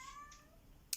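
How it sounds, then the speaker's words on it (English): A pet cat gives a single short meow, quiet and close, sliding downward in pitch, followed by a brief soft click at the end. "That's my cat."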